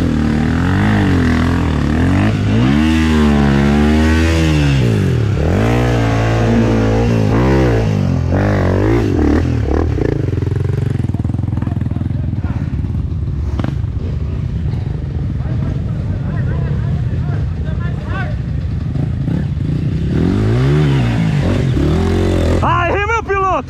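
A vehicle engine revs and accelerates on an outdoor ride in Presidente Lucena, RS, loud and close, with rising and falling pitch sweeps and people shouting over it.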